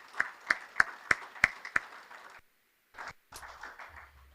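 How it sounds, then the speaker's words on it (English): At an awards dinner in a banquet room, six sharp, evenly spaced hand claps ring out close and loud, then a pause and a burst of scattered, softer clapping from a few people. "another round of applause for Dave and Jake is well deserved in their recognition"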